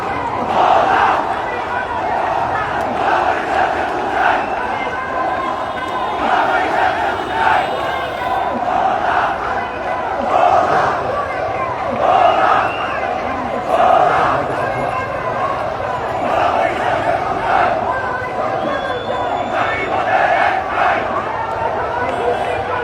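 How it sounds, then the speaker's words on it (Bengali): A crowd of Bhola residents protesting at Shahbagh, demanding a Bhola–Barisal bridge, chants slogans at police in loud, rhythmic bursts that repeat every few seconds, many voices shouting together throughout. "তবে আন্দোলনকারী যারা তারা পুলিশকে লক্ষ্য করে ভুয়া স্লোগান তারা আসলে দিচ্ছেন"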